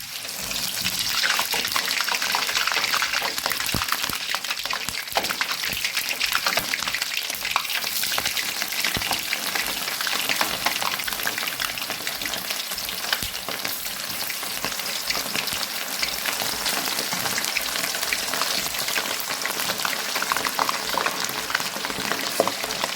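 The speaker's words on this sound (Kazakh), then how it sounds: "Енді етімізді саламыз." Meat fries in a kazan for kazan kebab, a loud, continuous sizzle and crackle with faint stirring scrapes that runs steadily throughout, with no talk.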